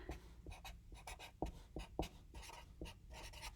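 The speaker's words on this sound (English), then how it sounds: "All right, so I'll write that up again." Pen or marker writing out a surface area formula on a board, steady scratchy strokes with brief taps between them, close and soft with no talking.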